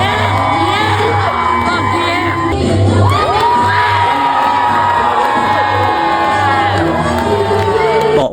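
Burlesque show audience screaming, whooping and cheering loudly, a sustained wall of shrill shouts and hollers with rising yells, close and unbroken for the whole stretch.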